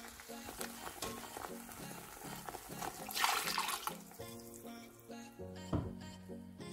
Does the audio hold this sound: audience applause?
no